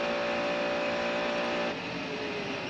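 A race car at the 1999 Le Mans 24 Hours drones past with a steady high engine note that drops slightly in pitch partway through, loud and close, with no talk.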